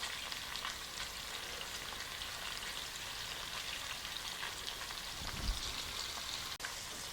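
Porcupine meatballs browning in a frying pan give off a soft, steady sizzle, faint and even throughout, with one brief low knock near the end and no voices.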